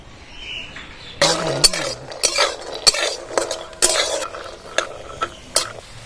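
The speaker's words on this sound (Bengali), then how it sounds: "কড়াইটা বসিয়ে দেবো বাদামটা ভেজে নেবো" Peanuts are stirred while frying in oil in a wok for singara filling, a spatula scraping and clattering in irregular close bursts over a faint background sizzle.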